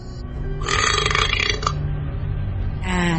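A man lets out a long, loud burp after quickly gulping down a glass of iced syrup, a drawn-out rumbling belch heard close and alone.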